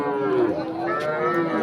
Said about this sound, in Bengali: সব ধরনের গরু পেয়ে যাবেন, গাভী গরু, ষাঁড় গরু, দুধের গাভী,